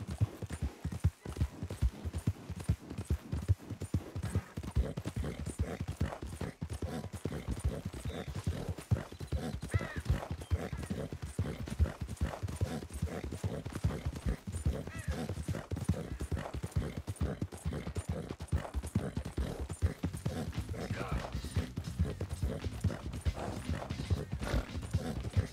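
Horse hooves clip-clop steadily in Red Dead Redemption 2, a continuous fast rhythmic beat of hoofs on the ground lasting the whole stretch, close and fairly loud with almost no talk.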